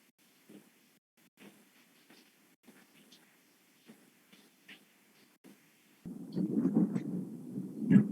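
Thunder during a rainstorm breaks in after several seconds of faint, scattered small sounds, rising into a loud, low, rolling rumble that fills the final two seconds.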